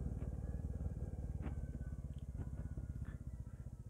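A motorcycle rides along a newly built village road, its engine giving a steady, rapid throbbing pulse that stays fairly quiet and even throughout, with a few light clatters over it.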